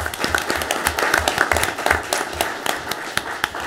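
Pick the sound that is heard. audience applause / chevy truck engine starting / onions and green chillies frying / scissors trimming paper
audience applause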